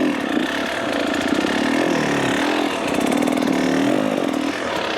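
A dirt bike engine runs loud and close, its buzzing note rising and falling in repeated throttle blips as the rider, off the bike, pivots it around on a trail.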